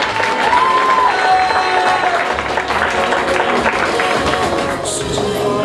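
A crowd at a charity association gathering gives sustained applause for a guest, thick continuous clapping with a few whoops and faint voices mixed in, holding steady to the end.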